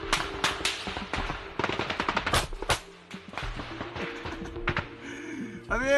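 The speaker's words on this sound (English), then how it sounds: "Russian soldiers exchanged fire with Ukrainian soldiers." Rapid bursts of automatic fire crack back and forth in a firefight between Russian soldiers of the 41st Motorized Rifle Regiment and Ukrainian troops, dense close volleys giving way to scattered shots and some faint voices.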